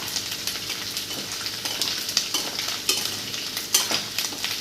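Half a kilo of prawns frying and being stirred in a pan for a military-hotel-style prawn curry, with a steady close sizzle and scraping stir strokes throughout, no voices.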